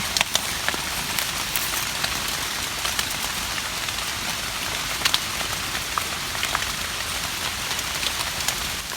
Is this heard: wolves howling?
no